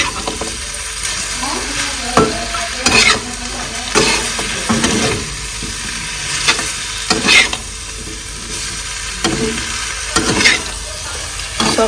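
Fish fries in a pan with elephant apple (outenga), a steady close sizzle with occasional louder crackles and spatula stirring scrapes throughout.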